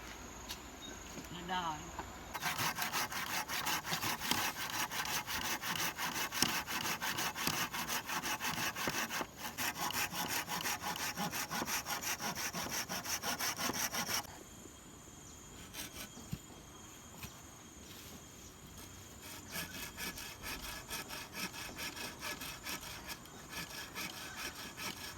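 Rapid, rhythmic rasping strokes of a hand saw cutting through wood, loud and close for several seconds, then quieter sawing continues under insect chirps.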